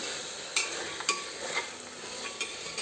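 Field beans fry in oil over a low flame, making a soft sizzle punctuated by a few rhythmic spoon stirs and clinks against the pan.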